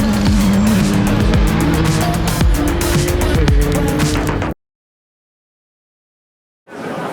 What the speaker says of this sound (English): The rhythm of night racing sets in at the Nurburgring 24 hours.